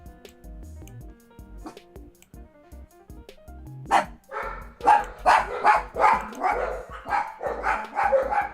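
A dog barks in a rapid run of loud, close yaps after a quiet stretch of soft background music, about eight barks in quick succession.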